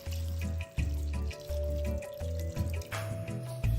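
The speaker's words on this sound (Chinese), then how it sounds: "倒入700毫升清水" Water poured into a rice cooker over ingredients for Hakka preserved-vegetable rice, a close, splashing stream that comes in several bursts broken by short pauses, with no talking.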